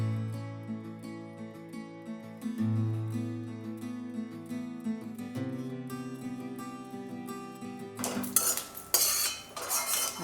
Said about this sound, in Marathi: आता हे केशरी फूल हा मसाला आपण भाजून घेऊ.